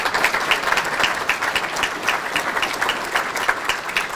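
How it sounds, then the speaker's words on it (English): A round of applause from the crowd at a supervisor's community event, steady dense clapping from many hands sustained evenly throughout at a fairly close distance. "I want you to all please give them a round of applause."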